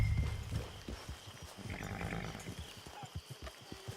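A horse in the video game Red Dead Redemption 2 makes soft hoof clops and shuffling that grow more distinct and rhythmic toward the end, fairly quiet and close.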